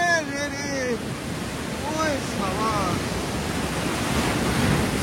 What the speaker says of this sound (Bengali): কি রে শ্যাক কুমার, সমুদ্র আমাকে ভিজিয়ে দিল